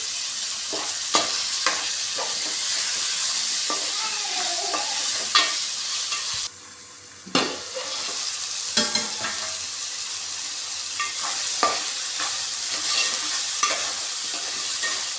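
A spoon stirs tomatoes and coriander into a hot pan for moong dal kichidi, making repeated scraping strokes over a steady sizzle. The sizzle briefly drops out midway, then resumes. No one talks.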